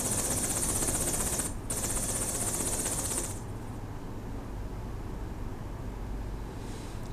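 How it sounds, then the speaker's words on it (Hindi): A helicopter ferrying patients in Rudraprayag, Uttarakhand, gives a steady, loud, dense rotor and engine roar throughout, briefly dipping once and easing slightly partway through, with no voices. "इसी के साथ ही हेलीकॉप्टर से मरीजों की शिफ्टिंग"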